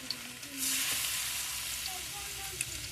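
Fish sizzles and fries in hot oil with onions for a Tenali-style fish curry, a steady close crackling hiss that swells after the first half second and continues without talk.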